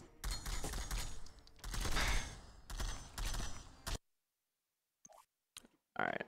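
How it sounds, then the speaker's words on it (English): Enemy gunfire in Hitman: Blood Money: several bursts of rapid automatic shots, loud and close, pause into silence, then a few sharp isolated shots and clicks follow. "they just randomly started shooting at me"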